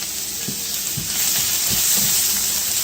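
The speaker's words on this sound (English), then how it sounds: "the more caramelized you have your onions, the more color you'll have in your stamppot" Onions caramelizing in a pan on a stovetop for Dutch stamppot, giving a steady close sizzle and frying hiss with a few soft stirring scrapes.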